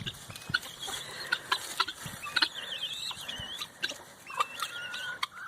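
A flock of pet birds making busy, overlapping squeaks, chirps and rattling calls nearby, soft but constant, with scuffling and small movement noises between the calls.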